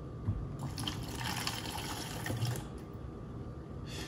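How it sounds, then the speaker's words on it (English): Effective Microbes liquid poured into a vessel, a soft steady trickle and splash of fluid that runs for a few seconds and then tapers off, quiet and close. "I'm just gonna pour that right into our vessel."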